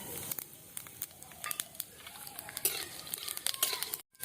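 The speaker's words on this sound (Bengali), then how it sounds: "2টো শুকনো লঙ্কা আর 5 ফোড়ন দিয়ে ফোড়নটা দিয়ে নিচ্ছি" Dry red chillies and panch phoron spluttering in hot oil for a pumpkin bori and spinach dish, a close, busy crackle with scattered pops and spits throughout, no voices.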